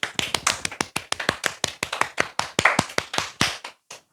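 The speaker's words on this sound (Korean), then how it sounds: "박수로 마무리를 하겠습니다. 박수." A quick, even burst of hand claps, around twenty crisp close slaps in a row that slow and thin out at the end.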